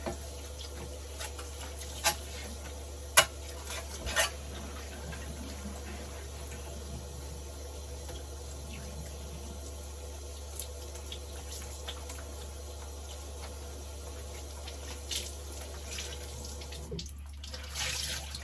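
Clothes rinsed under a running tap at a sink, a steady stream of water hissing beneath a low hum, with occasional splashes and small knocks as the fabric is handled.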